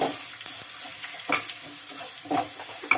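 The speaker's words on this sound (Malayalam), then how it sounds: "ഒന്ന് ഇളക്കാവേ" A spoon stirs asafoetida and other pickle spices frying in a pan, making repeated soft scrapes and rustles over a quiet, steady sizzle, close and moderately loud.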